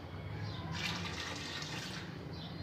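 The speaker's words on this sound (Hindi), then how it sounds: "अंदाजे से पानी डाल रहा हूँ" Water poured from a tap into a pot of about four kilograms of rice for chicken pulao, a steady soft rushing splash close by that surges briefly in the middle, with no voices.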